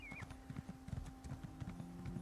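A horse mount in the video game Elder Scrolls Online trots with quick, even clip-clopping hooves, fairly close and moderately quiet over a faint steady background hum, with no talking.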